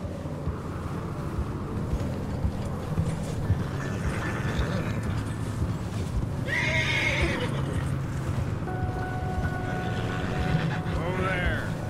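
A horse whinnies and its hooves clip-clop in a Western open-world video game, with shrill neighs rising over steady hoofbeats and background game ambience.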